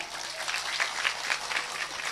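Audience applause at an Islamic religious lecture, a dense steady patter of many hands clapping at moderate volume through a sound system, continuing evenly without talk.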